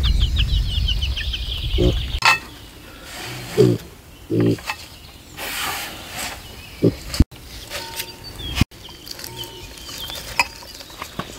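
A hen with her young chicks following close behind on a rural farmstead, clucking and cheeping in short bursts, with scattered pattering and bumps nearby.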